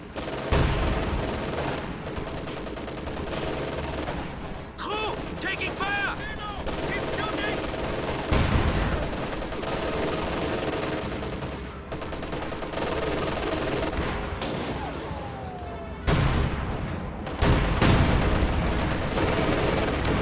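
In a war video game, a field gun and an IS-2 tank fire heavy booming rounds at a Panther amid continuous gunfire and explosions. Voices call out over the battle noise.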